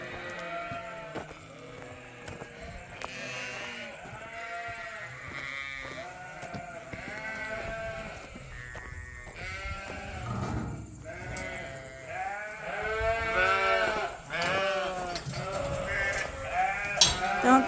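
A flock of freshly sheared ewe lambs in a barn on a sheep farm, bleating continuously and overlapping from several animals at once, nearby and fairly loud, with occasional shuffling between calls.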